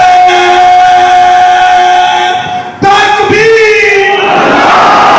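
Crowd at a Muharram gathering in an imambargah shouting religious slogans in reply to a leader, loud chanted voices in unison, a sustained call, a short break, then a massed response.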